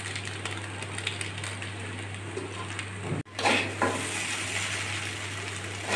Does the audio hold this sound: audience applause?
no